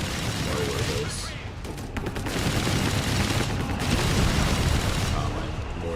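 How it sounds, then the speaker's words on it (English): A mortar shell striking a mine in Company of Heroes 3, a rumbling explosion amid continuous battlefield noise with scattered gunfire, loud and steady throughout. "Oh, my mortar hit the mine there."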